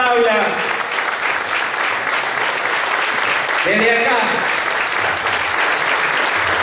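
A theatre audience at the municipal theatre in Dorrego applauds Víctor with loud, sustained clapping that fills the hall, while someone speaks over it through a microphone.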